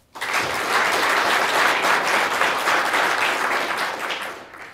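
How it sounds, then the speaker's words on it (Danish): A live audience in a university auditorium breaks into loud, sustained applause, a dense wash of clapping that swells quickly and holds for several seconds before easing slightly, with no one talking over it. "giv lige jer selv en stor hånd,"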